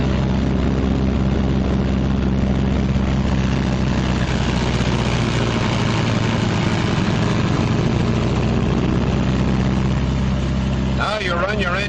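A Martin B-26 Marauder's twin piston engines run up together at high RPM, a loud, steady droning roar with propeller throb that holds constant before a brief shift near the end.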